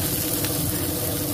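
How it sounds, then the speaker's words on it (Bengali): Boiled potatoes and onions fry in oil in a pan, giving a dense, steady, close-up sizzle that holds unbroken from start to finish. "সেদ্ধ আলু দিয়ে আলু পেঁয়াজ ভাজা।"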